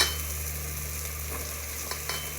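Pumpkin sabzi sizzles in a hot pan as it is stirred, with a steady close frying hiss over a low background hum and a couple of light scraping stirs toward the end.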